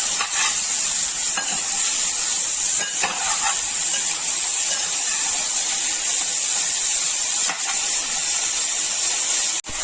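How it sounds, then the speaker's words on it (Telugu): Salted broccoli frying lightly in a pan, a loud continuous sizzle with occasional scraping strokes as it is stirred, steady across the whole stretch and without any voices. "ఇది ఇప్పుడు ఇలా లైట్ గా ఫ్రై చేస్తే చాలండి"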